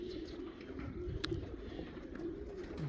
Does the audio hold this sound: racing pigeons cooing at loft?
yes